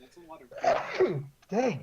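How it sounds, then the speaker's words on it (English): A sudden sharp sneeze bursts out amid people chatting, followed by more talking. "Gesundheit."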